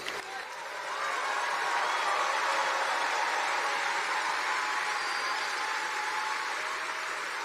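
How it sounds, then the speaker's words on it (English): A crowd at a Donald Trump rally speech roars with sustained cheering and applause, swelling after the first second into a dense, loud wash that holds steady to the end. "And the crowd goes wild."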